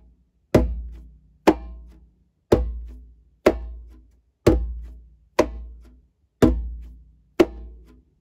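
Eight sharp, dry heel-toe shuffle strokes on a single conga, evenly spaced about a second apart, each with a quick decay, played close and alone.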